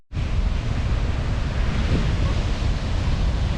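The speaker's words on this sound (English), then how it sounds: "Waves are up, surfers are out." Surf rolls onto a Gold Coast beach in Queensland with waves up, a loud, continuous wash of breaking water and wind rush that fills the whole stretch.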